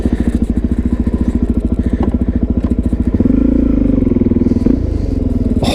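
Motorcycle riding up a slope, a loud close engine with a fast, pulsing chug that rises into a higher, strained tone partway through as the bike climbs.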